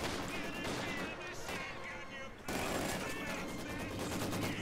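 Machine gun fire in the World War II strategy game Company of Heroes 2 rattles in sustained rapid bursts, pausing briefly before a louder stretch of continuous shooting.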